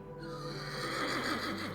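A horse named Bucephalus gives a short, bright whinny that carries clearly over a soft background for a couple of seconds.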